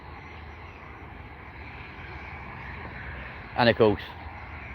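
A Ryanair airliner on runway 03 left at an airport on a clear day, a steady distant engine roar that stays even throughout, with someone speaking briefly over it near the end.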